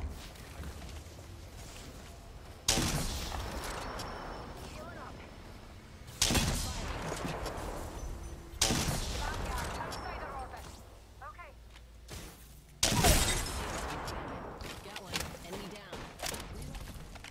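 Piercing shots fired in a video game: four loud, sharp blasts at irregular intervals, each trailing into a rumbling decay over constant busy game noise.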